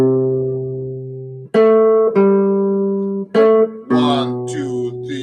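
A guitar plays a low melody exactly as written, picking out a handful of clear, sustained single notes one after another with short gaps, each ringing out before the next.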